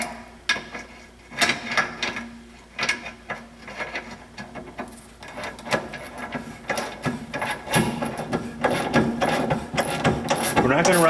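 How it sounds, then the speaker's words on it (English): Ratchet spinning a rear shock bolt on a Honda Pilot under repair, giving bursts of quick clicking mechanical strokes that build in density toward the end, close and fairly loud. "so I'm going to take a ratchet first."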